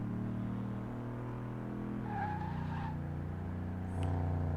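Engine of a Ford Escort in Car Mechanic Simulator 2018, loud steady drone that drops in pitch as the gas pedal is released, then settles into a lower idle hum near the end.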